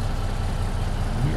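A Peterbilt 377 truck engine idles in American Truck Simulator, a steady low rumble that stays even and close throughout the short stretch.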